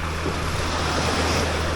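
Sea waves wash around someone wading at a beach, producing a continuous close, loud rush of surf and splashing water with wind noise.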